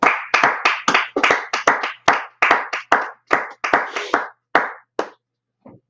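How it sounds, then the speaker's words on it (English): A live audience at an evening brotherhood class claps in a steady burst of applause, hand claps dense and close, fading to a few scattered claps and then quiet near the end. "Clap it up for that one."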